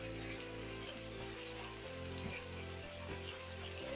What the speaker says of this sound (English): So I have my Italian sausage cooking.